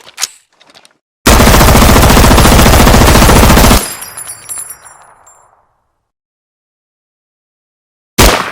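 A sustained, loud burst of automatic gunfire from a remake of the shooter game Escape from Tarkov rattles for a few seconds. Spent casings tinkle and clink as it dies away, then silence, and another burst starts at the very end.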